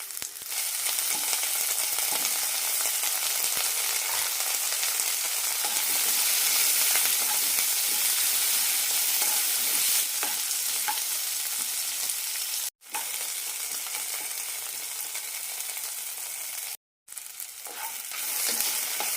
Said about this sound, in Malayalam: ചെറിയ ഉള്ളി തക്കാളിയെല്ലാം നന്നായി വെന്തിട്ടുണ്ട്